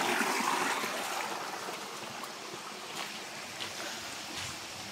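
A river stream flowing in a forest, a steady broadband rush of water that is moderately close and continuous, with no voices over it.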